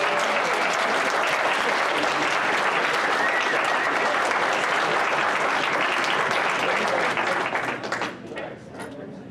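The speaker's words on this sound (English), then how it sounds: "round of applause for the extremely talented people who turned this room over." A large Dragoncon crowd gives loud, dense applause that holds steady for several seconds, then thins out into scattered claps near the end.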